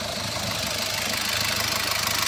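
A Mercedes A-Class engine idles steadily at close range, a continuous broadband hum with no talk over it.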